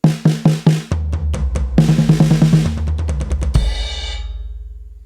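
Tom drums roll through a quick fill, high rack tom hits leading to deeper floor tom strokes, ending on a ringing crash that fades out.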